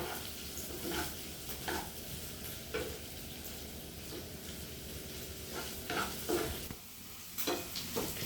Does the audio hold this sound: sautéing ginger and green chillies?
yes